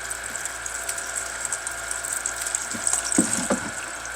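Coolant trickling from a Ford Focus ST radiator hose into a container, a faint steady dribble with a few small clinks and splashes under a constant hum.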